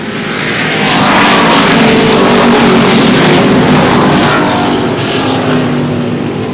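Race cars roar around the oval at Lee Speedway in New Hampshire, a loud, continuous engine drone that swells and holds steady as the pack passes close by, with no voices in the mix.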